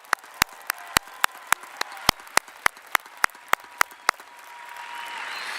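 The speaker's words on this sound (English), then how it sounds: "Let's give them a round of applause again." At a 2022 high school graduation ceremony, a large audience applauds the graduates, heard as regularly spaced sharp claps in a steady rhythm over a diffuse crowd background that swells at the end.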